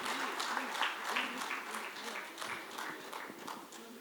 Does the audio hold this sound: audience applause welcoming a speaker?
yes